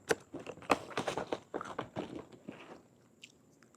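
Crunchy, spicy pork binagoongan being bitten and chewed close to the mic, a quick run of crisp crunches and chewing sounds that taper off toward the end, fairly quiet with no talking.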